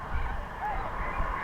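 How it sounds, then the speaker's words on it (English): Geese honking on a slough crowded with waterbirds, a faint rising call over a steady wash of wind and ambient noise. "all kinds of ducks and geese."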